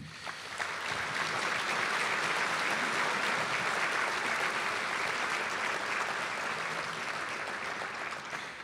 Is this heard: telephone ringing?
no